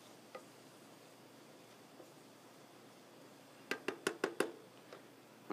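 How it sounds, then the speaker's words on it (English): A spoon stirring lobster risotto in a pan gives a short run of five sharp, close clicks and scrapes against the pan, over a quiet background with a few isolated ticks before and after. "Stir it up for another minute or so."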